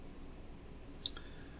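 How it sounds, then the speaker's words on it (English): A single sharp click from a relay in a Hallicrafters SX-140 receiver, followed shortly by a fainter second click, over a quiet low hum. "you hear a relay clicking all the time"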